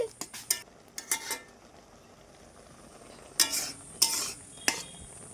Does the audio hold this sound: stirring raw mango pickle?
yes